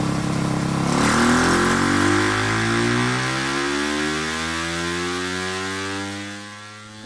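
Yamaha YZ300FX dirt bike with a 304cc Athena big bore kit held at full throttle on a dyno, a loud steady high-revving engine wail that climbs in pitch and then eases slightly toward the end, with no talking.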